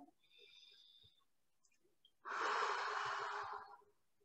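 A person takes a deep breath during a tapping relaxation exercise: a faint short inhale, then a louder, longer exhale of about a second, heard close and alone.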